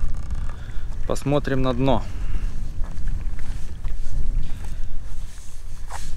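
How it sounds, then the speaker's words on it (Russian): Steady outdoor wind rushing and buffeting the microphone throughout, on the Kitoy River during a packraft trip, with a short spoken phrase near the start. "Ветер хороший дует."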